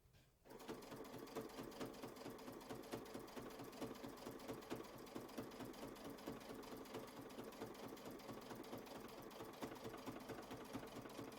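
A sewing machine stitches a quilt block with a steady, rapid mechanical chatter that continues evenly for over ten seconds and is heard close up with no talking.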